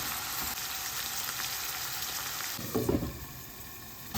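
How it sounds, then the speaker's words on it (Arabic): Fresh chicken livers frying in a pan, a steady hiss of sizzling oil throughout, close and moderate in volume, with a brief rustle as the pieces are turned near the end. "أضيفها عليها، أقلب الكبدة على الجهتين"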